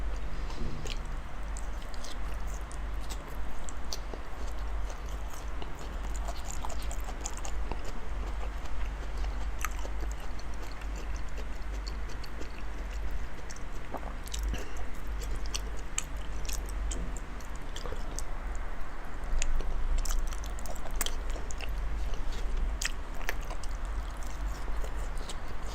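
Large bites of salmon being chewed and bitten close to the mic, with steady soft wet mastication sounds and no talking.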